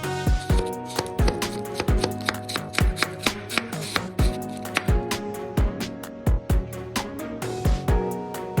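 A knife chops cabbage and carrot thinly on a board for an Onam sadya cabbage thoran, giving crisp, close, rhythmic strikes in quick runs with brief pauses between them.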